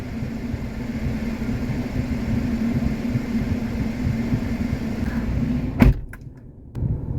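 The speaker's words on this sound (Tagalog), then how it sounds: "ang ingay pala pagbukas yung pinto." Geely Coolray car door opening inside the cabin: a sharp latch click cuts through a steady hum, followed by a brief quieter stretch before the background noise returns.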